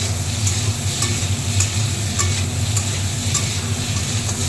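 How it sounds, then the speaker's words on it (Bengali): Food is stirred in a hot frying pan after salt is added, a steady sizzle and fry with soft periodic scraping strokes of the spoon, close and continuous. "নুন দিয়ে একটু নাড়াচাড়া করে নেব।"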